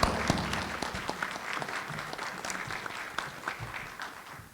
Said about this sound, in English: How about one more round of applause for our panelists?